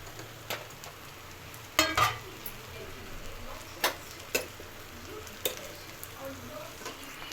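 Fried paneer pieces stirred into cooled rice in a pan, faint frying sizzle with intermittent spoon scrapes and clinks against the pan, close and without speech.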